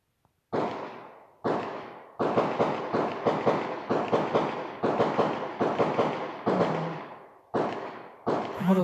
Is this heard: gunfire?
yes